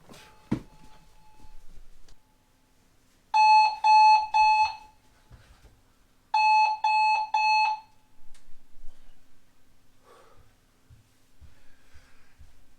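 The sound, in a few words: alarm clock ringing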